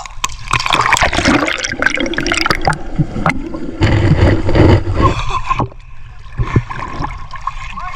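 Strong current of the Agos River in Infanta, Quezon rushes and churns loudly up close, a dense turbulent wash with splashes and surges.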